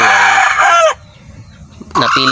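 A rooster crows loudly and close, a long drawn-out call, then a brief pause before another crow begins.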